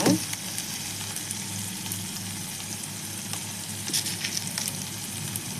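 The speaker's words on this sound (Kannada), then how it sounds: "ಈರುಳ್ಳಿ ಕೆಂಪಗಾಗುವಾಗ ಟೊಮೆಟೊ ಹಾಕ್ಕೊಂಡು ಫ್ರೈ ಮಾಡ್ಕೊಂಬಿಡಿ" Tomatoes and onions frying in a pan for tomato gojju, a continuous close sizzle with a low steady hum underneath and a few sharper spatula scrapes near the end.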